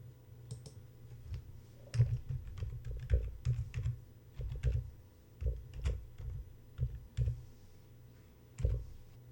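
Keys tapped on a computer keyboard while entering a Google search query, an uneven run of close, crisp clicks in short bursts with brief pauses between, no voices.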